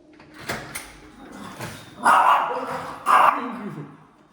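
A dog barks a few times, with two louder, sharper barks toward the end, nearby indoors with some background shuffling.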